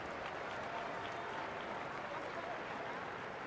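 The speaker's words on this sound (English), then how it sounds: "Ripple of applause for India's 150." Cricket crowd at a women's international between England and India applauding India reaching 150, a steady, distant wash of clapping across the ground, with a commentator faintly underneath.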